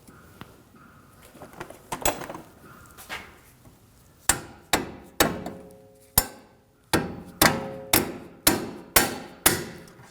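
A hammer taps a rear wheel bearing into place on a 2007-2013 BMW 328i, a few scattered knocks followed by a steady run of about a dozen sharp, ringing metallic strikes, close and loud.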